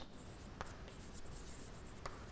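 A teacher writing on a classroom board during an English grammar lesson on degrees of comparison, heard as faint continuous scratching strokes with a couple of light taps.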